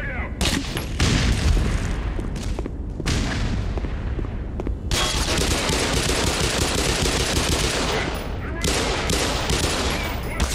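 Rapid bursts of gunfire mix with heavy grenade explosions in the game Black Mesa, loud and continuous, with brief lulls between volleys.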